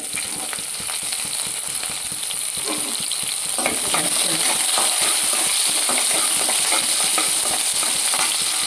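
Curry leaves, garlic and green chillies crackle and sizzle in hot oil, a steady, close frying hiss with scattered pops, stirred now and then, growing a little louder midway.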